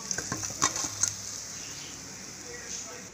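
Fish frying in hot oil makes a soft, steady sizzle, with a few brief clinks and pops early on before the frying settles into a faint continuous hiss.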